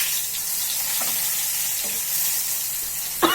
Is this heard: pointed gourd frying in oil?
yes